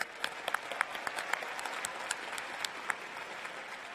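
A graduation audience in a large arena applauds and cheers at a university commencement ceremony, with dense sustained clapping, sharp claps standing out and occasional shouts within the crowd roar.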